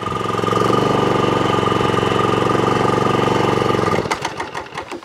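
A job-lot lawn mower, one of several being tested, runs loud and close with a steady rattling engine drone that cuts out about four seconds in, leaving a few sputtering knocks as it dies.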